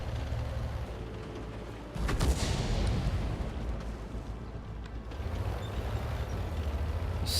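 Artillery shell impacts and booms in the World of Tanks video game, with a loud blast about two seconds in over a constant rumbling battle background, then a second swell of rumble near the five-second mark.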